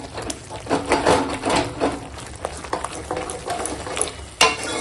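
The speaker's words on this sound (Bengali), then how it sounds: "হাতা নিয়ে নিয়েছি এই ডানলা জন্য এবার একটু এরকম করে ঘেঁটে নিচ্ছি" A ladle stirs and scrapes through a simmering dish of snail and spinach curry in a pot, with repeated rhythmic scraping strokes and light sizzling, close and steady with no talk.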